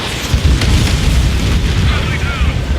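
Enemy transports blowing up in the jet combat game Ace Combat 7, a dense, continuous rumbling roar of explosions with heavy low-end booms, loud and sustained throughout.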